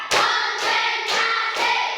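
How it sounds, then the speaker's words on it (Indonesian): Four loud, evenly spaced hand claps close up, each a sharp smack with a short ringing tail, in a classroom counting exercise. "Tepuk satu. Tepuk dua. Tepuk tiga. Tepuk empat."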